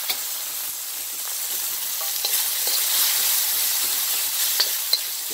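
Beef searing in a hot pan for beef fried rice, a loud continuous bright sizzle with occasional crackles and spits, heard up close with no talking.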